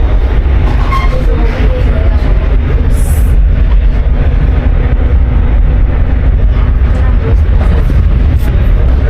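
Steady rumble and rattle of a moving Alaska Railroad train in winter, heard from inside a carriage, continuous and fairly loud, with faint voices in the background.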